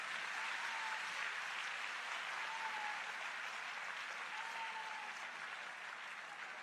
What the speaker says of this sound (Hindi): एक बार जोरदार तालियां पूरा सदन बजाए।